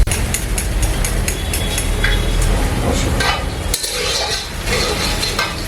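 About 100 grams of yogurt is whisked vigorously in a bowl for a mutton yakhni pulao, giving loud, rapid, continuous scraping and clinking strokes with no voices.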